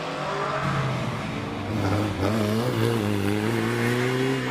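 Lotus 61 race car climbing the Prescott hill climb course, its engine revving loudly through rising gear pulls with a brief drop at a shift, heard from nearby and alone.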